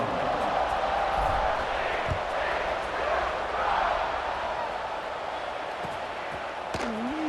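A college football stadium crowd roars steadily before a kickoff, a dense sustained wash of cheering with a brief whistle-like tone near the end.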